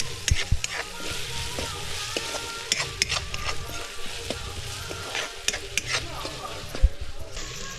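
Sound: turmeric and salt sautéing in pan on wood-fired stove

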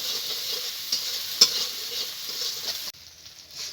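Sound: spice paste with salt and turmeric being sautéed in oil

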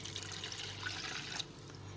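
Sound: cup of water poured into cooking chicken

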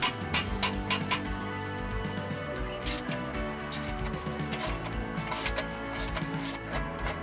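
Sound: ratchet with 18 mm socket loosening engine mount bolt

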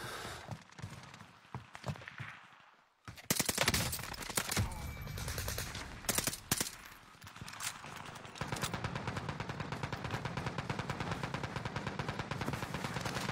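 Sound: gunfire in the video game Call of Duty: Warzone

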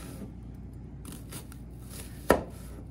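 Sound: knife slicing an onion

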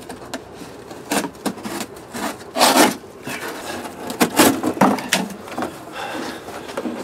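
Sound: handling a cardboard box

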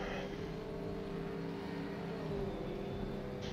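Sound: LMP1 race car engine in rFactor 2 video game

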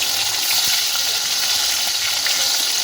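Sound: hilsa fish frying in hot oil

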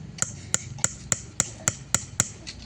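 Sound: punching holes with a nail

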